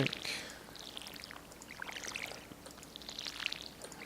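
Watering crops with a watering can in the farming game Stardew Valley: soft splashing pours repeat through the stretch, with short bright droplet sounds over a steady watery wash.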